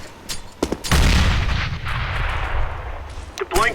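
A grenade blast in a Counter-Strike match, a sudden loud boom with a long rumbling tail, preceded by a few sharp game sounds and followed by a brief later burst.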